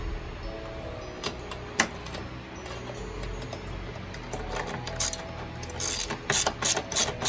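A ratchet wrench tightens a nut while fitting a fender eliminator and turn signals on a 2020 Honda Grom, giving a series of close, rapid pawl clicks in short bursts that grow louder toward the end.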